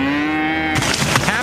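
A cow moos in one long, loud, drawn-out call with a clear tonal pitch, then it cuts abruptly into a burst of noisy, crackling sound.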